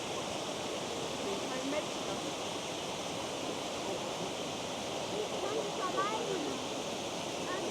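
Forceful waterfalls in the Black Forest, Germany, roar as a steady, loud wash of rushing water through the whole stretch, with faint voices briefly audible in the background.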